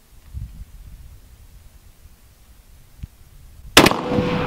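An Arctic Warfare sniper rifle fires once at a kettlebell: after a few quiet seconds a single sharp, loud blast hits, then a rough roaring tail carries to the end.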